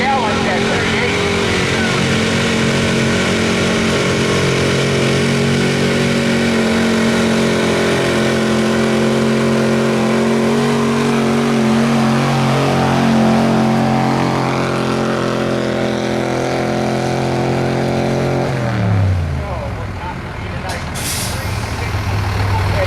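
A 1975 Ford F-250 roars through a pull at the 2012 Trollhaugen truck pull in Dresser, Wisconsin, its engine loud and steady for about eighteen seconds before the pitch drops sharply as it winds down, with crowd and announcer sounds mixed in.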